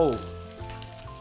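Tricolour bell peppers and onion tossed into a hot pan with garlic for stir-fried chicken with strawberry, a brief loud sizzle burst with a clank and quick stir, close up.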